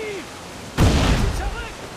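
Enemy cannon fire at a ship in Assassin's Creed 4 Black Flag, heard as a single loud, booming blast with a rumbling tail. It cuts sharply into quieter ambience, and faint chatter is audible beneath it.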